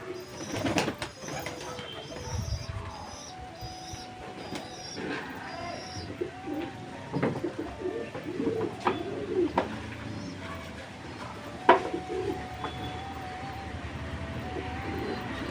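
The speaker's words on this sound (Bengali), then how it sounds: "এখানে ডানা কাটা অনেকগুলো পায়রা আছে" Pigeons coo softly and repeatedly in a sunny spot with a light breeze, several birds calling at moderate distance against quiet background sounds, with no voices.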